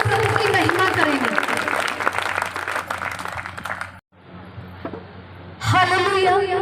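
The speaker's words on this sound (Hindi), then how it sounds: "जोरदार तालियों से प्रभु की महिमा करेंगे।" A church congregation claps loudly in praise during a testimony service, with a voice over the clapping. A short lull follows, then speech starts again.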